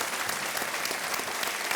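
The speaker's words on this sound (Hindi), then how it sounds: "एक बार इनका अभिनंदन कर दिया जाए। बजाओ ताली।" A studio audience on a televised quiz show claps in a dense, steady burst of applause that fills the short moment at even loudness.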